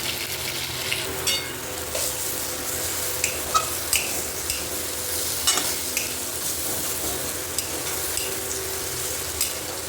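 Small mourala fish frying in hot oil: a continuous, close sizzle broken by faint pops and soft clinks of a spatula against the pan, with no talking.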